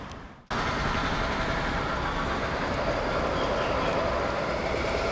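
Steady, loud rumble of a moving train on a rail ride in Singapore, a continuous roar of wheels and carriage noise that starts abruptly after a brief quiet and holds constant throughout, with no talking.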